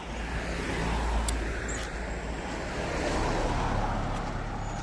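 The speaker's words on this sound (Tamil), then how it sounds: "ஃபுல்லாகவே இந்த வண்டி தான் போயிட்டுருக்கு இந்த பக்கம்" Cars passing on a road on Praslin in the Seychelles, a steady broad roadway rumble with wind and a distant surf-like wash that holds throughout, with no voices.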